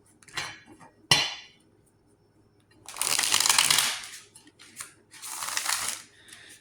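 Tarot cards are riffled and shuffled in two long bursts of crisp, fluttering rustles, with a few light taps and handling sounds between.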